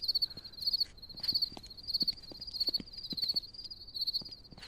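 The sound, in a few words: crickets chirping in the video game DREAD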